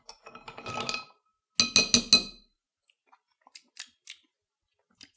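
Ice cubes clinking into a glass while an Old Fashioned is mixed: a scattered rattle of cubes, then a tight cluster of bright clinks, followed by a few faint, sparse taps, close and without talk.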